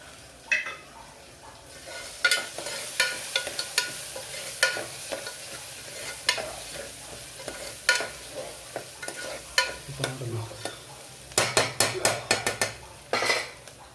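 Ginger garlic paste fries in a pan for Telangana-style gongura mutton. A spoon scrapes and clinks against the metal in irregular strokes over a soft sizzle, with a quick burst of rapid stirring near the end.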